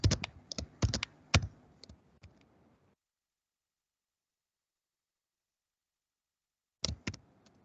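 Brisk typing on a computer keyboard, a quick cluster of clicky keystrokes for a few seconds, then silence, then a short final burst of keys, close and clear with no voices.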